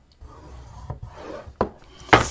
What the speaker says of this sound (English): I want to score it at 1 inch and then at 2 inches.